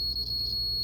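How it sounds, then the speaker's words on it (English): A multimeter in continuity mode beeps steadily as its leads touch both ends of a thermal fuse from a Kalorik Maxx appliance, one sustained high, clear tone held close and loud for the whole moment. "touch the leads, we have continuity. You can hear the beep."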